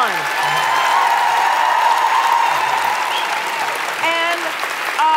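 Sustained applause from a large theatre audience for a performing company at a staged literary debate, dense and steady throughout, with a voice speaking over it near the end.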